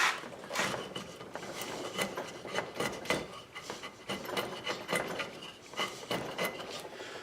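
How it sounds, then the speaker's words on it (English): Steady rasping and scraping of a chisel smoothing wood on a model boat build, with irregular strokes and small knocks, close and fairly loud, no talking. "So you turn the chisel around to try to start smoothing it out"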